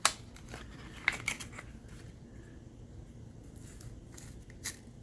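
A 24-inch silver antique tape measure with rust, its steel blade pulled out and snapped back in a few brief clicks and rattles, close up and quiet with no talking.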